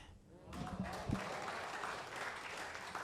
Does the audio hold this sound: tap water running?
no